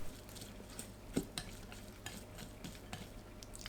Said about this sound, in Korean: 콩나물, 고운 소금 3분의 1큰술, 참기름 1큰술 섞어주세요.